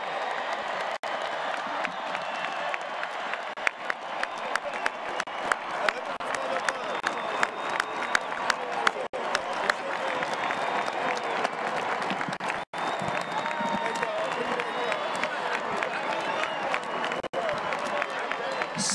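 Large outdoor crowd at a national championship football parade and celebration applauds and cheers steadily throughout, dense continuous clapping with scattered whoops and voices mixed in, loud and close.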